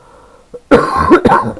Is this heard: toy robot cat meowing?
no